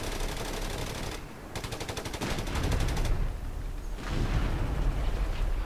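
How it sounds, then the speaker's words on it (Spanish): Sustained machine-gun fire and bursts of gunshots from the Company of Heroes 3 battlefield, loud and continuous, with rapid rattling volleys and a brief lull before more firing resumes. "¿Quién os está disparando?"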